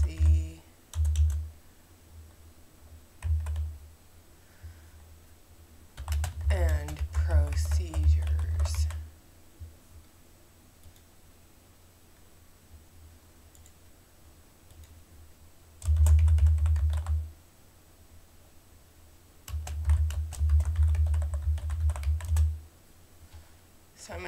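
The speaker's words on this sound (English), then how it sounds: "So I'm going to type in policy." Typing on a computer keyboard at a desk, several short bursts of soft clicking keystrokes separated by pauses, with a person talking in between.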